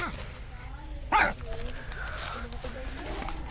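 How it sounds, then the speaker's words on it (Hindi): A colourful dog newly arrived at a pet house gives a short, sharp yip or bark midway through, amid whimpers and background chatter as people talk nearby. "ओए ये तो भाई बड़ा ही कोई खतरनाक कुत्ता है, रंग बिरंगा।"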